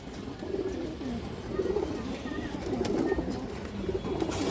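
A khaki pigeon, a female, coos in soft low repeated phrases close by, with light background noise and other birds faintly chirping.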